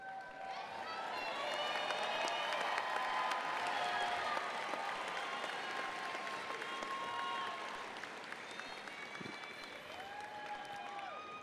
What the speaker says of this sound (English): all the applause from the audience has been wonderful